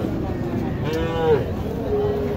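Bull calves at a cattle market in Naogaon, one giving a single short moo over a steady murmur of crowd noise.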